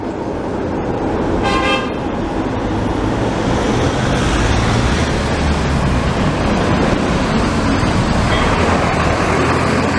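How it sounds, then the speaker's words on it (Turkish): A metro train passes through a residential neighbourhood in Adana, Turkey, a loud continuous rumbling roar throughout with a brief high horn toot early on, no talking. "Aa, metro geçiyor bak."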